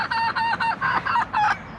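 Cockerels calling in a backyard flock kept for culling, a run of loud, close, harsh honking crows and squawks in quick bursts with short gaps between them.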